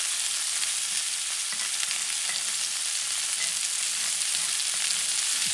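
Steak sizzles in melting butter in a tilted pan, producing a dense, even hiss that runs unbroken and close throughout with a faint low bubbling underneath and no talking.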